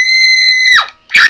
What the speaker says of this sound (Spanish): soltó un grito desde la parte de atrás